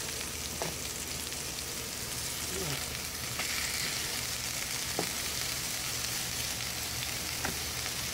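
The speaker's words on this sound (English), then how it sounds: "I'm sauteing in the butter, okay?" Meat patties saute in butter in a pan, giving a steady close sizzle with occasional faint clicks and scrapes throughout.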